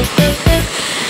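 Water rushes loudly and steadily at Bukit Peringin waterfall in Yan, Malaysia, a close, broad roar with a couple of brief splashing surges near the start.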